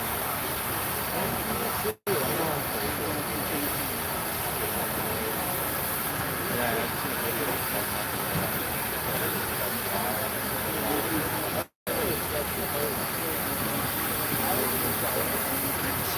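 Steady hissing steam exhaust from the pistons of Union Pacific 4014 Big Boy steam locomotive, a continuous broadband rush lasting throughout, loud and close, with two brief dropouts and a faint engine rumble underneath.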